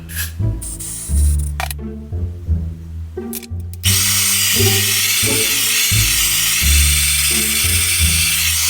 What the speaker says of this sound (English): I'm gonna go ahead and spray it one more time all the way around